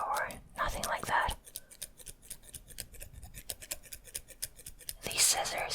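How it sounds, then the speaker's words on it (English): Dull scissors snipping close to the ear in a binaural setting, a few crisp cuts near the start and end, with soft whispering in between. "These scissors are too dull for that."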